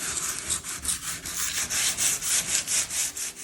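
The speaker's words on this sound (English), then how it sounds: "So we'll sand it a little bit" Steady back-and-forth sanding strokes rub across the metal surface of a 1998 Whirlpool dryer being stripped for repainting, a close, even rhythm of about seven or eight passes with no talking.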